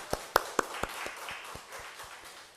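A church congregation claps together after an Easter sermon, a brief run of sharp, fairly quiet handclaps that loosen and fade into softer scattered taps.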